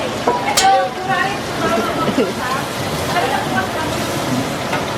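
Pork frying in a pan, a steady sizzling hiss throughout with people talking over it close by.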